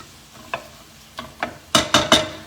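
Onions softening in a pan for red pepper pasta, heard as a string of short scraping stirs that grow louder toward the end, over a faint sizzle with no talk.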